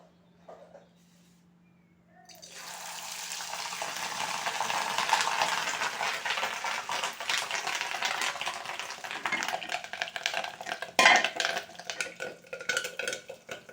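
Fish roe spooned into hot oil, starting with a quiet knock and then breaking into loud continuous frying and spattering that crackles and pops sharply right up close.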